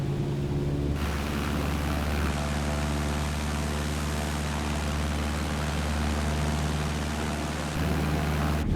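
Light airplane engine in a flight simulator throttling up on the runway for takeoff, a steady loud propeller drone with tonal hum that steps up in level after a second, no talking.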